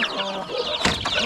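Mother hens and chicks cluck close by on a farm in a short burst, with chirping and a louder flurry of calls near the end.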